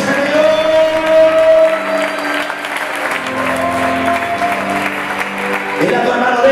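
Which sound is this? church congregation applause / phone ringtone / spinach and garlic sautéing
church congregation applause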